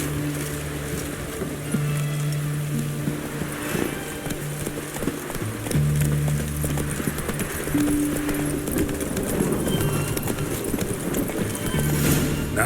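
Roach, Geralt's horse in The Witcher 3, trots with a steady clip-clop of hooves over ambient game music and background sound, with a little speech.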